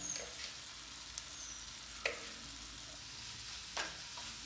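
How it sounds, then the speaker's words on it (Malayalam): Turmeric, chili and coriander powders sautéing in a pan for a coconut chicken curry, a faint, soft sizzle with a few sharp stirring taps, close and quiet, no voices. "നന്നാക്കി ഒന്ന് വഴറ്റി കൊടുക്കാം."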